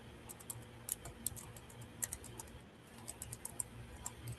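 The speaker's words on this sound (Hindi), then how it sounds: "टाइपिंग की आवाज आ जाती है।" Someone types on a computer keyboard somewhere off to one side. The keystrokes are faint and come in irregular bursts of quick clicks over a low background hum.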